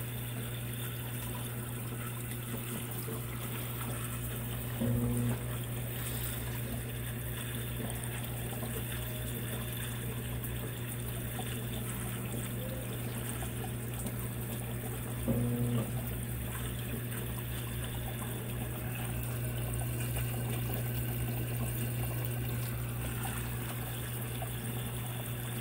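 Consul 16 kg washing machine pouring water over a load of towels: a steady low pump hum with continuous trickling water, plus a couple of brief clunks, fairly quiet and with no voices.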